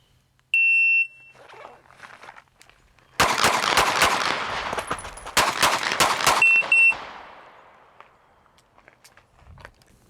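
Rapid bursts of gunfire from a real gun crack loudly at close range in two long strings, preceded by a shot-timer beep and followed by another beep.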